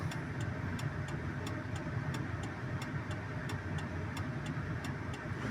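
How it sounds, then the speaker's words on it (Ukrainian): A Daewoo Matiz hazard-light flasher ticks in a steady, evenly spaced series of sharp clicks over the low hum of the idling engine, close and clear. "Включимо аварійку."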